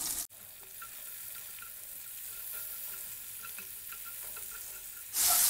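Sliced onion fries gently in reused chicken oil, giving a steady, quiet hiss with small crackles, close up, ending in a sudden louder burst of sizzle.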